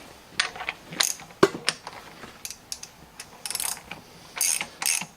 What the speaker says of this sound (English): I can use the socket and a ratchet